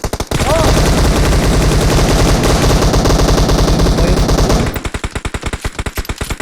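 Rapid, loud automatic gunfire in a battle royale game, a continuous close burst of shots that gives way to slower, distinct rhythmic shots near the end, with players talking over it.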